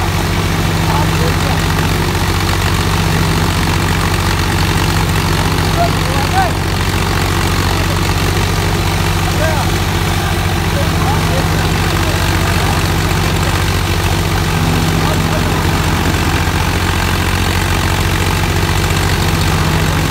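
A tractor engine runs steadily while powering a belt-driven chaff cutter, a continuous low droning hum that holds constant throughout, with people talking over it now and then.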